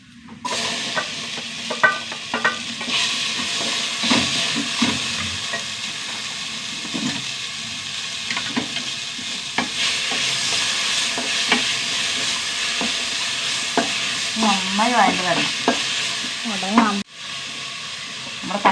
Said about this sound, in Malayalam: തക്കാളിയൊക്കെ നന്നായി വഴണ്ട് വന്നു